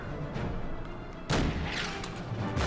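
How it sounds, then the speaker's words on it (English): Artillery shells firing on a German Nashorn tank destroyer in the WWII strategy game Order of Battle, a rumbling barrage with a sharp heavy boom midway and further blasts after. "the artillery attacks the Nashorn as expected"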